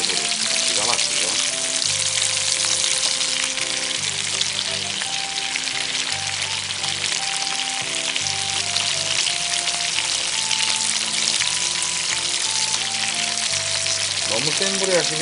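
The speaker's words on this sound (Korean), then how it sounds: "구워지는 소리 기가 막히죠." Rockfish frying in a hot pan give off a steady, close sizzle and crackle for the whole stretch, with no talking.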